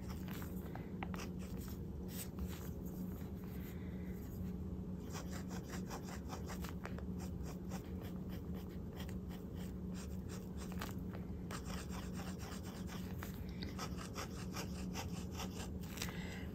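A Lamy Al-Star fountain pen with a medium nib writes on paper in Dark Lilac ink, producing a close, steady scratching and rubbing of nib on page that runs continuously throughout.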